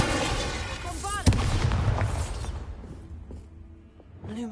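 A Bombarda explosion spell goes off in Hogwarts Legacy with a sharp booming blast, followed by a decaying rumble, while a voice speaks over the game sound.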